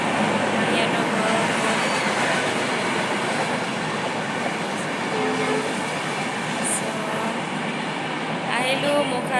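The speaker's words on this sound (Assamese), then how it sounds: "এয়া ট্ৰেইন গৈ আছে, শুনিছেনে নাই শুনা গম নাই পোৱা দেই" A train rolls past nearby with a loud, continuous rumble and clatter that fills the whole stretch, while voices talk faintly underneath.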